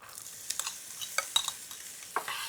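Onion sizzles softly in a pot with a steady frying hiss, broken by a few light scraping and clinking touches of a utensil against the metal.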